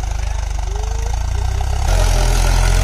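A Mahindra 575 DI XP Plus tractor diesel engine running close by, a loud steady throbbing idle that rises in pitch and intensity partway through as the revs increase.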